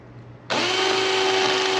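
A power drill abruptly spins up and drills loudly and steadily at close range, part of installing a Dekco 2K outdoor home security camera with wall anchors.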